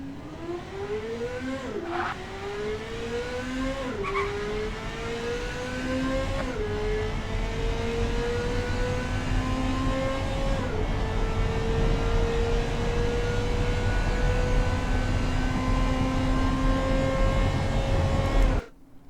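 A 2003 Marina Spark MkVII in Automation accelerates hard through its gears. The engine note climbs steadily, drops briefly at each of several upshifts and keeps pulling loudly and continuously, with no talk over it.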